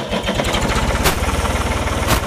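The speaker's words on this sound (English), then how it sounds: "See how fast this lift goes up on this tractor?" A used tractor engine runs with a steady, fast mechanical chugging while its hydraulic lift raises. A couple of brief sharp clanks cut through the engine noise, and the sound is close and continuous.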